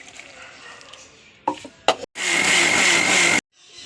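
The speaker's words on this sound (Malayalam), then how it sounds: "ഒക്കെ ഇട്ടിട്ട് അരക്കട്ടെ." A kitchen mixer grinder works chilli powder, turmeric and fennel into a spice paste: a few short rattling bursts, then a loud, steady whirring grind for about a second before cutting off abruptly.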